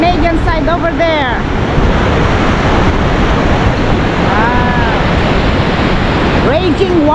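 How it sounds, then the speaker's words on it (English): Raging water of Niagara Falls on the USA side, a loud, steady, close roar of rushing water with brief voice-like tones rising above it near the start and end. "Wow. Raging water."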